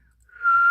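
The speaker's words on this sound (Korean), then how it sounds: "휘파람을 불었어요." A single sustained whistle, as a person whistles to summon a horse, rising briefly before holding one clear, steady, close pitch; no one speaks.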